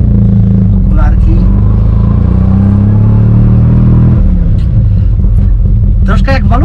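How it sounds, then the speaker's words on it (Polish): A 1969 Fiat 500L Lusso, rated at 50 hp, drives in first gear, its straight-cut gear teeth making a distinctive whine over a loud, close engine rumble from inside the car, with people talking throughout. "zęby na pierwszym biegu są proste. Stąd to takie charakterystyczne wycie"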